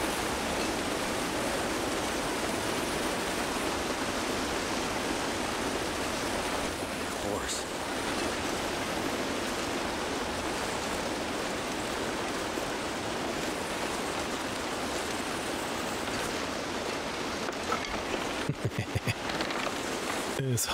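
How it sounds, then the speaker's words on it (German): Constant broad rushing of a lower waterfall in the survival video game The Long Dark, a steady wash of falling water that holds evenly throughout, with a few faint clicks near the end. "Unterer Wasserfall."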